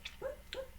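A dog asleep under a desk lets out two soft, whiny yelps while it dreams, each a rising then falling whimper. The yelps come about a quarter second apart and are faint and close.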